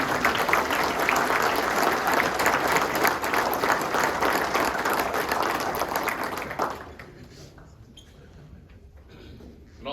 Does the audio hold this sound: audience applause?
yes